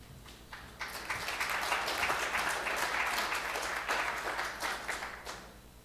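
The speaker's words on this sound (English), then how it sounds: "Round of applause, please." Applause from a conference audience at a cancer forum, a steady wash of many people clapping that rises quickly and carries on evenly for several seconds before tapering.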